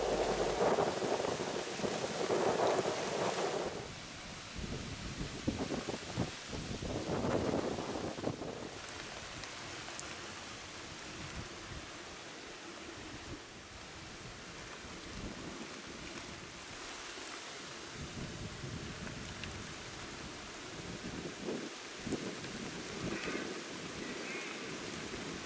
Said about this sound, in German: Plötzlich schlägt das Wetter um und es beginnt stark zu regnen.